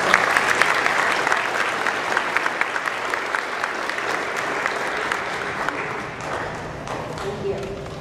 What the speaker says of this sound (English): So if you'll give a round of applause to the Boys and Girls Club.